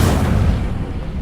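Casting the Incendio fire spell in Hogwarts Legacy gives a single loud, low whooshing burst of flame. It starts at full force and dies down over about a second, with no voices over it.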